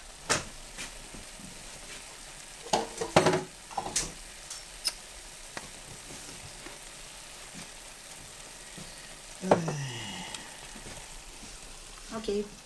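Shakshuka sauce sautés in a pan with a steady, soft sizzle, broken by clinks and stirring scrapes from a utensil near the start and again later.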